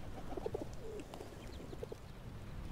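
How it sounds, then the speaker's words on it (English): Pigeons coo in soft, repeated low bursts at a statue in The Battle for Middle-earth, a video game, over a steady background ambience. The cooing is moderately close and there is no talking. "Of course the statue has the sound of pigeons."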